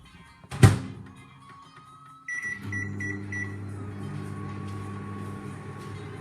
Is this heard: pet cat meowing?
no